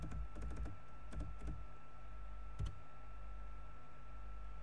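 Computer keyboard keys typed in short bursts of quick clicks, a cluster near the start and a lone couple of taps later, close and fairly quiet over a steady electrical hum, with no talking.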